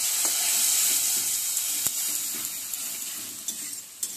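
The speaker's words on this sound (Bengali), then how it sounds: "এরপর আমি বেগুন আর বিলাতি পোড়াটা আমি দিয়ে দিচ্ছি, ভালো করে নেড়ে নিচ্ছি।" Roasted eggplant and tomato stirred in a hot frying pan, a steady close sizzle with occasional soft scrapes and taps of a utensil against the pan.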